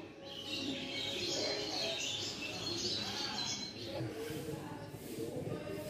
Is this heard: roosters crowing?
no